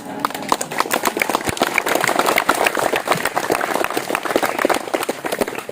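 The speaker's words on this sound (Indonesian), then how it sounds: "Kasih aplaus" An audience at a madrasah school staff event bursts into dense, sustained clapping that carries on evenly throughout.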